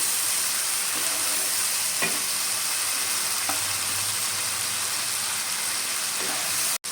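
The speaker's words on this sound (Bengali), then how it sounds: "ভালো করে কষে নেব" Spice masala with Kashmiri chilli powder, a little water and sugar is sautéed in a pan for a pointed gourd curry, producing a loud, steady sizzle with a few soft stirring knocks.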